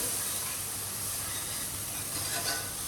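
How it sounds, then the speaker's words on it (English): Broccolini sautéing in a hot frypan with salt and pepper, a steady close hiss of sizzling oil running without break and with no talk. "give that a quick saute off, touch of salt, touch of pepper"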